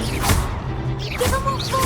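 Confringo blasting spell cast in Hogwarts Legacy: a sharp, fiery whoosh and crackling burst with swirling magical tones, loud and close, set within busy combat effects.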